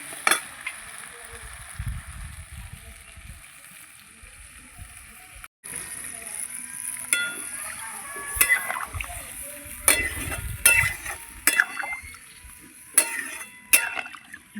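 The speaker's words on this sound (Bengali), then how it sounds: "এবার আমি জল দিয়ে দেবো।" Water poured into a pan of potatoes fried in spices until the oil separates, part of a home-style tangra fish curry; a brief splash and bubbling followed by stirring scrapes and clinks of utensils against the pan.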